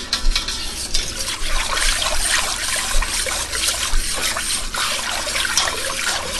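Cool milk poured into a hot pan of Alfredo sauce, a close, steady liquid trickle and splashing with light stirring noise, continuous for several seconds and with no talk.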